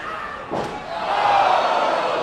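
A single sharp slam lands in a wrestling ring during a Fatal Four-Way match in Vancouver as a wrestler kicks an opponent's spine. The crowd noise rises and swells right after the impact.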